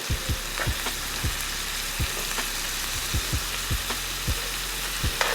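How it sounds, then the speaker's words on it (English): Shrimp sizzling as they fry in a pan for rasta pasta, a steady close hiss broken by sharp crackles and pops as pieces are flipped, with no talking. "We're gonna go ahead and flip the shrimp over."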